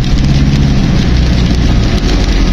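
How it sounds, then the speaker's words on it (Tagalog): Heavy rain drums on a moving car on a bypass road, a dense, loud, continuous hiss and patter over a low road rumble, with no voices. "Malakas ang ulan, guys."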